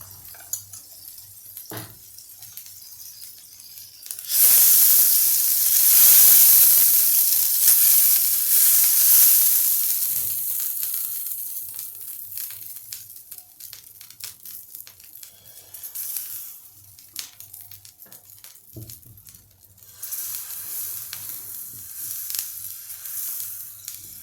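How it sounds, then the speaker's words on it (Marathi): Dosa batter hits a hot griddle with a sudden loud sizzle that slowly fades, then a second burst of hissing near the end, with quiet clatter between. "या तव्यावर मी डोसा घालून देते"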